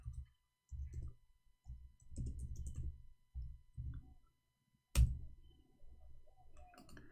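Bursts of clicking keystrokes on a computer keyboard come in short, irregular clusters separated by pauses, fairly close and quiet, followed by a louder thunk.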